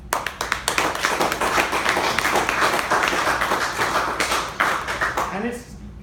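Audience applause at a talk, a dense sustained wash of many hands clapping that swells and then tapers off toward the end, with a voice heard briefly over it.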